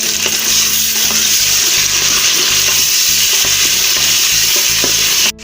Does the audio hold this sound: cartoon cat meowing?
no